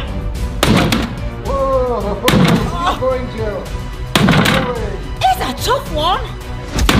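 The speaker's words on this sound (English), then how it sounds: "Oh no! I've broken my bedside cabinet." Several loud cracking thuds of a wooden bedside cabinet breaking, spaced a second or two apart, mixed with people talking and shouting over them.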